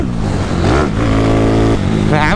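Honda Today scooter engine revving hard up close, its pitch swelling and dropping in repeated throttle blips over a loud, continuous motor drone.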